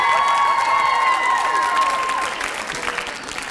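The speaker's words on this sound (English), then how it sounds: "can we get a quick round of applause for the guys" A crowd applauds and cheers for the contestants at a high school Mr. MHS pageant run by student government, loud clapping with shouts and whistles, strong at first and easing slightly toward the end.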